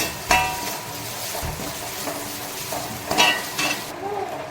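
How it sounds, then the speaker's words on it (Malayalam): Mustard seeds and a sprig of curry leaves sizzle in a pan while being stirred for a pappadam thoran, with a steady frying hiss broken by a few louder scrapes and clinks of the spoon against the pan. "ഈ കൂടെ ഞാൻ ഒരു തണ്ട് കറിവേപ്പിലയും കൂടി ഇട്ടിട്ടുണ്ട്. എന്നിട്ട് നല്ല രീതിയിൽ ഇളക്കി നല്ലോണം പച്ചമണം മാറണേ"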